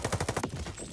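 An enemy in a video game hip-fires a gun in a quick burst of about six rapid, evenly spaced shots that ends abruptly, loud and close, with no talk over it.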